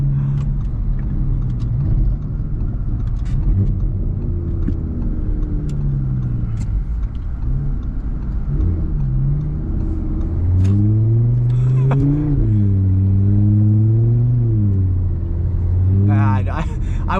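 A loud Audi RS3 drives through a winter blizzard, its engine rumbling low and then revving hard in rising and falling pulls near the end, with someone talking over much of it.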